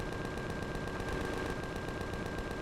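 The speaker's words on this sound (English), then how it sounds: "Somebody over there with a rocket shooting at me." Continuous rapid gunfire from a rocket attack in the space video game Empyrion, a dense rattling burst that stays steady and loud throughout, with no voices over it.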